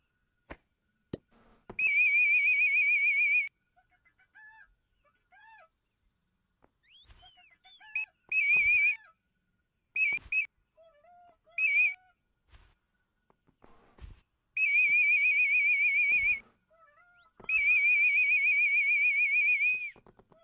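Repeated bright, warbling whistles in bursts of one to two seconds from the bird guide in the video game Vacation Simulator, interleaved with short chirpy game sounds and quiet gaps; no talking.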